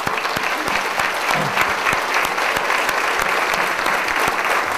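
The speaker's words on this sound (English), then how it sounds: "give yourself a giant round of applause for what you have done" An audience of hospital staff at a customer-service talk gives a long, loud, sustained round of applause, with dense, even clapping and a few sharper individual claps standing out.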